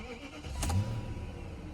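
A high-mileage BMW with 184,000 miles on it cranks and fires up, a short close engine start that settles into a steady idle.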